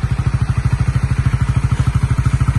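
Motorcycle with stock exhaust running close by, a loud, even, rapid engine pulse throbbing steadily throughout with no speech.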